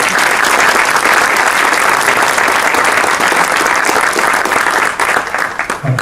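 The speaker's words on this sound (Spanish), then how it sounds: "Un aplauso." Audience at an astronomy and literature lecture gives Miguel Santander loud, continuous applause that stays dense for about five seconds before tapering into a few scattered claps.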